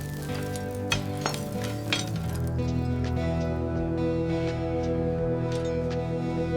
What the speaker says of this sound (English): focusing on the Z1 chain guard now. Look at that thick grease. Let's gently scrape this away.